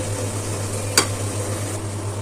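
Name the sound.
chicken frying and being stirred in a pan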